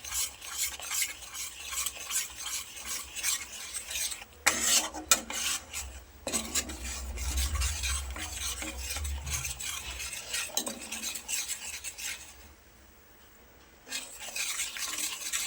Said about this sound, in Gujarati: જેમ જેમ લોટ શેકાતો જશે તેમ તેમ હલકો થતો જશે